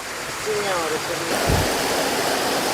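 A river's rushing water flows steadily, a broad continuous wash that swells louder midway, with a faint tonal sound near the start.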